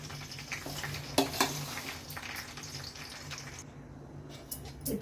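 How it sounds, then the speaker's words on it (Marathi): Curry leaves crackle and sizzle softly in hot oil, with a few louder spits and a utensil clinking against the pan. "ह्या कढीपत्त्याचा बघा असा चुरचुरीत आवाज यायला लागलाय"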